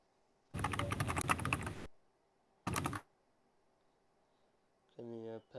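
Typing on a computer keyboard during a live trading session, bursts of rapid key clatter separated by quiet pauses, with a short tonal sound at the end.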